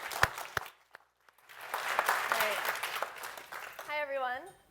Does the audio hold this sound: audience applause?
yes